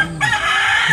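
A rooster crows once, loud and close, with a drawn-out, strained call that fills the whole moment, heard outdoors near a rural hut.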